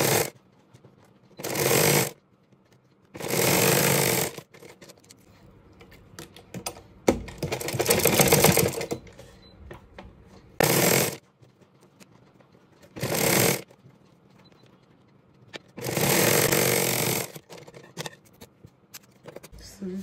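Sewing machine stitching a corset belt, running in several loud bursts of a second or two each, separated by quieter pauses with faint handling noise.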